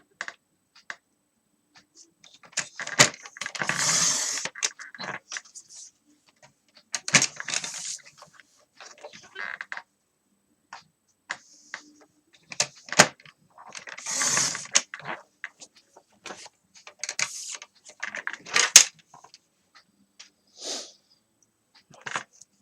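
Paper being cut to size for a handmade mini album, a run of crisp cutting and sliding strokes in bursts with short pauses between, close and fairly quiet, no talking.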